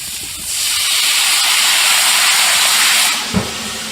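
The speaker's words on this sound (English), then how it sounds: "We're going to steam this just a little bit." Loud, steady hiss of steam rising from bacon and onions on a Blackstone griddle, swelling in after a moment and holding for several seconds before a brief clink cuts it off.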